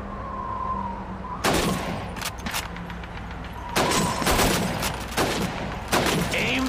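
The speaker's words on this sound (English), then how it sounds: "Shoot those bottles and plates." Rifle shots ring out at bottles and plates on a Red Army shooting range in Call of Duty 2: about seven loud, sharp cracks in an irregular rhythm, with a faint tone and a low hum between them.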